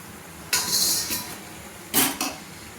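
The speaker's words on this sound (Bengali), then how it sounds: "এবার আমি ছানটার সাহায্যে আমি ছেঁকে নেব" A fried lentil-stuffed dal puri is lifted out of hot oil with a metal slotted spoon, giving two short bursts of bright metallic clinks and scraping against the pan, close and alone.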